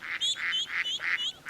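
Ducks quack in a Caillou cartoon, a run of five or six nasal, honking calls coming in steady bursts, close and clear with no talking over them.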